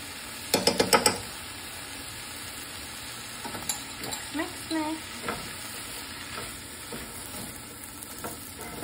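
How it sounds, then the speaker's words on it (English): Minced garlic sizzles and gets stirred in a pan with wilted chard, opening with a quick burst of clattering stirs, then softer intermittent scrapes and a low steady fry. "Now we will put in our minced garlic."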